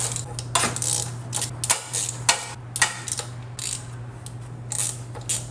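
A ratchet socket wrench works carburetor nuts off a John Deere D170 lawn tractor, giving bursts of quick clicking ratchet strokes with short pauses between them over a steady low hum.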